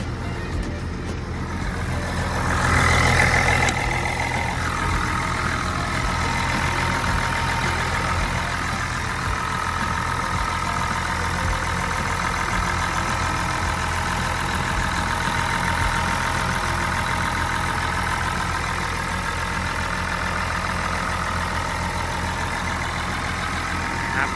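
The diesel engine of a Hitachi ZW310-A wheel loader idles steadily at close range, a continuous low rumble with a brief louder rev near the start.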